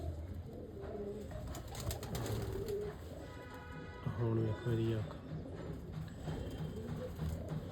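A Sialkoti hen pigeon gives soft, low coos amid rustling, faint and mostly under someone talking close by throughout.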